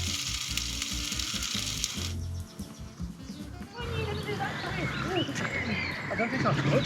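Six sausages fry in a pan at a camper van, a loud crackling sizzle that cuts off briefly before other sounds, bird chirps and background noise carry on.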